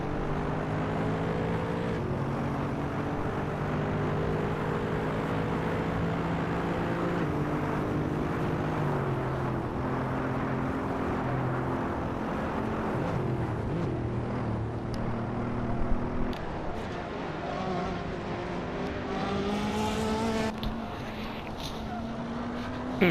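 Audi race car in Assetto Corsa on the Nürburgring: a steady engine drone that shifts pitch with gear changes over about twenty seconds, with brief louder moments near the end.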